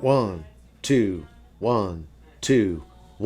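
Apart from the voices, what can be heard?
No everyday noises stand out.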